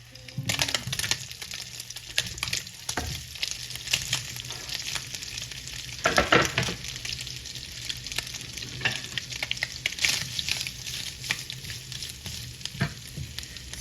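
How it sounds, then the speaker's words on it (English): Meat sears in a hot pan with a steady crackling sizzle, punctuated by stirring scrapes and louder bursts of frying as pieces are moved around, continuing without talk. "So while the meat is sizzling away here"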